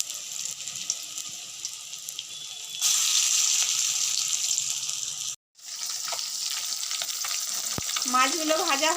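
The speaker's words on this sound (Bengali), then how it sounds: "এইখানে দেখো বড়াগুলো সব ভাজা হয়ে গেছে" Bora fritters fry in hot oil with a steady, loud sizzle that swells partway through, broken by one brief dropout, and later joined by soft stirring and a high whining tone near the end.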